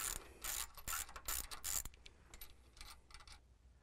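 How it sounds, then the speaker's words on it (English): A 10mm socket on a ratchet backs a bolt off during an alternator install: quick bursts of crisp pawl clicking, loud at first and then fading into softer, sparser clicks, close up with no talking. "So we're going to take a 10mm socket, pop this bolt off of here"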